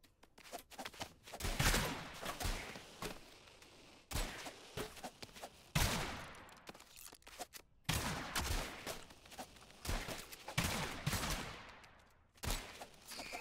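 Shotgun blasts loaded with buckshot and explosive bullets in the video game ROUNDS, firing in rapid, loud volleys that come in several bursts separated by brief pauses.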